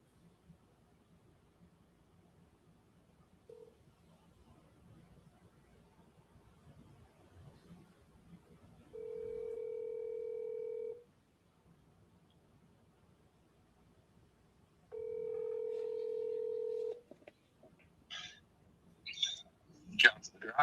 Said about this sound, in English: Yep. I'm going to double dial him.